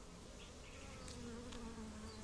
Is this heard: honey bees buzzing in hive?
yes